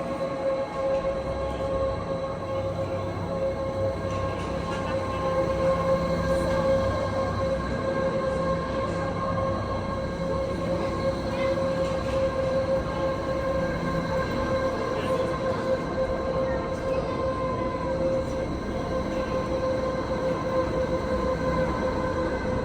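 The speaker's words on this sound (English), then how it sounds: "We're on the steepest and highest railway in Europe right now." Jungfraujoch mountain railway train climbing steeply through snowy Swiss Alps, a steady loud rumble of wheels on rails with sustained motor whine and tonal hum, continuous for the whole stretch with no talk.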